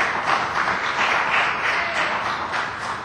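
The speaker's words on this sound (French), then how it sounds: "je remercie les applaudissements du parti ministériel" Members applauding in the Quebec parliamentary chamber: a loud, dense burst of many hands clapping that continues without a break.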